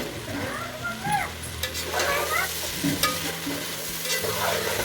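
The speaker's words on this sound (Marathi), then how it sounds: "शेंगदाणा फोडून घालायचं बघा पुरेसं हे सगळं परतून घ्यायचं" Crushed peanuts and vegetables are stirred and scraped in a pan with a soft sizzle underneath, a continuous clattering texture of cooking with no voices.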